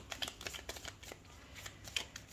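Tarot cards shuffled by hand in a quiet room, a run of soft, rapid papery riffles and flicks repeating irregularly at low volume.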